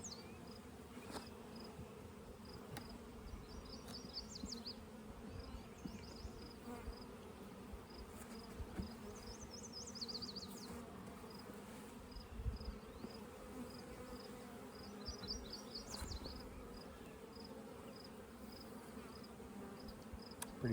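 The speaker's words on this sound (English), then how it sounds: "lots of young bees walking around" Bees buzz steadily around an open hive colony, a dense close drone with faint individual wingbeat hums drifting in and out, joined by occasional thin high chirps in the background.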